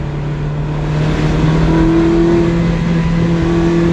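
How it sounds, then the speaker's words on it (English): A Ferrari engine revs hard in second gear toward 5,000 RPM, loud and close, its droning tone climbing and holding with a steady exhaust roar. "now that is throttle response"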